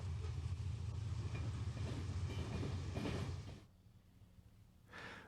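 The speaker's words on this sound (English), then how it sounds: "The former nickel plate branch now hums to unit coal trains headed to a power plant in Michigan City" A unit coal train rolls along a former Nickel Plate branch line, a steady low rumble of wagons that holds for about three and a half seconds, then drops away before a brief swell returns near the end.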